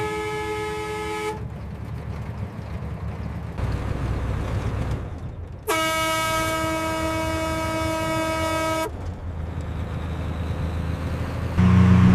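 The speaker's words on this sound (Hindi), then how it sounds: "हॉर्न दो" A vehicle horn blares on a road in two long, steady blasts separated by several seconds of engine rumble and traffic noise, loud and close, with no speech.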